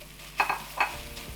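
Onion tossed into a hot pan with browning meat strips, giving two or three bright stirring scrapes over a low steady sizzle, close and fairly quiet with no talking.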